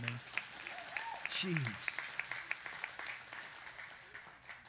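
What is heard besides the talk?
audience hand clapping in church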